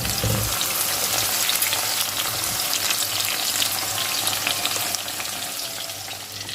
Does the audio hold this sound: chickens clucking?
no